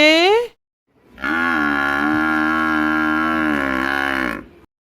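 One long, deep low bellow from a buffalo, sustained for about three seconds, loud and close, after a short rising tone at the start.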